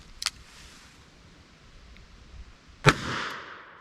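A 220 grain +P Critical Duty round fired from a revolver at a range, heard as one loud sharp report with a brief decaying tail, preceded by a fainter short crack.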